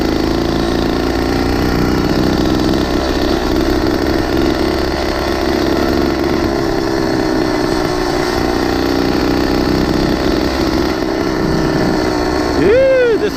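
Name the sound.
motorized 20-inch mini bike engine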